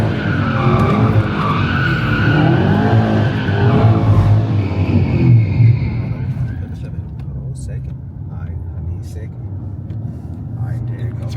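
Tires skid and squeal as an 800 hp Camaro ZL1 slides, with a loud, steady engine roar throughout and occasional voices over the noise.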